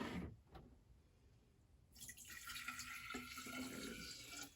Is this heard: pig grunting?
no